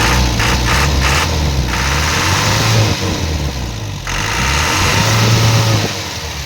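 An Isuzu 4BC2 diesel engine running loud and close with a steady low throbbing drone, the pitch rising and falling slightly as it is revved, with no voices over it.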